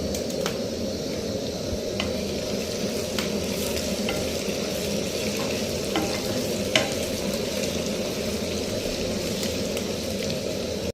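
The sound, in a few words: whole chillies and green chillies frying in oil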